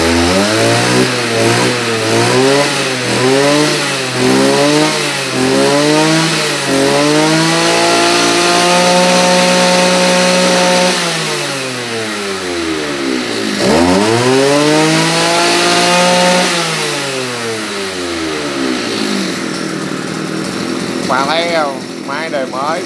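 A Maruyama BIGM BC300RS-1 brush cutter with a 30cc, 37 mm bore engine runs loud and close, revving repeatedly up and down in steady sweeps, with a few longer held high-rpm stretches.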